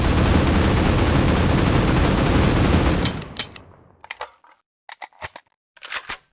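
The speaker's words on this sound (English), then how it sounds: "For this demonstration, we will use the AK-47." AK-47 fires a sustained full-auto burst in the Critical Ops shooter game, loud and rapid for about three seconds, then a few short, sharp follow-up bursts with gaps between them.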